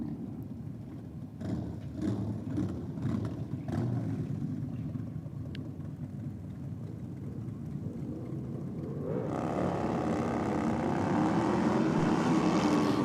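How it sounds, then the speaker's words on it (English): At a bike night drag strip, a motorcycle holds high RPM during a burnout. The engine drones steadily, then rises into a louder, sustained high-revving whine toward the end, with crowd ambience underneath. "Lots of RPM in the burnout for the rider in the airflow lane."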